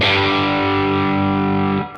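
Fender Vintera II 70s Jaguar electric guitar on its bridge pickup, a single loud distorted rhythm chord ringing out steadily for about two seconds before being cut off.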